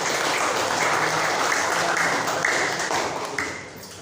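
Classroom applause for a lesson's conclusion, steady dense clapping from a group of students, even and loud throughout before easing slightly at the end.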